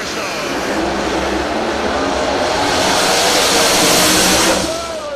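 Pro modified drag cars launch in the final round at the Yellow Bullet Nationals in Cecil County, engines roaring loud and close in a sustained rising blast that fades slightly at the end, with an announcer's voice faint underneath.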